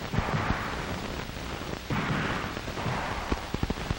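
Gunfire on a 1965 FBI training range, fired from behind cover, comes as dull, muffled shots in a loose pattern over a constant rumbling background, with a quicker cluster of reports toward the end.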